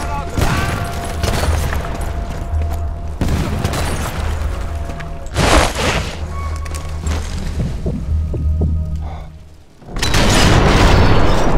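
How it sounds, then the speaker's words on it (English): Grenade explosions in the Sniper Elite 4 video game, several heavy booming blasts with low rumble and crackling debris over continuous battle noise, the loudest bursts near the middle and end. "Finally, I can use my grenades."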